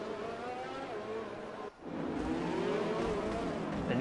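A race car in the Speed Force Racing GP3 video game pulls onto the starting grid. Its engine drones steadily, dips briefly, then returns with a rising, slightly louder tone.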